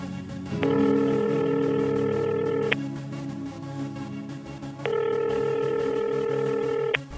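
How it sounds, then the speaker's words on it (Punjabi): Telephone ringback tone during an unanswered call, two long even buzzing rings about two seconds each separated by a pause, clear and steady over a low background. "ਨਾ ਇਹ ਫੋਨ ਚੁੱਕ ਰਿਹਾ ਨਾ ਜੱਸੀ ਚੱਕ ਰਹੀ ਹੈ"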